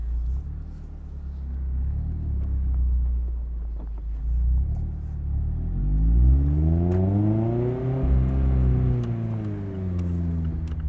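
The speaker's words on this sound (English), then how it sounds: "That RoadsterSport Race Exhaust sounds fantastic in this car." A modified 2019 Mazda MX-5 Miata 30th Anniversary with a RoadsterSport Race Exhaust and six-speed manual pulls away, a deep rumbling exhaust note rising through revs then settling as it drives on.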